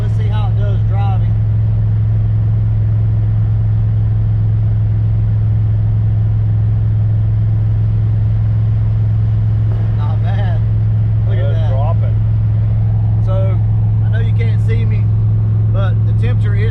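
An overheating car drives along after idling, its engine a loud steady low rumble with constant road drone, while someone talks over it now and then.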